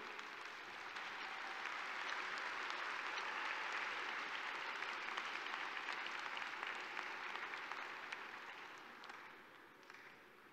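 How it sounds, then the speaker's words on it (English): Graduates at a 2021 pharmacy doctorate commencement applaud one another, a broad, steady roar of many clapping hands that swells in the first seconds and gradually fades near the end. "turn and celebrate and applaud your own team members"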